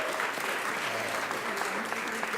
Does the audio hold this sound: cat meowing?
no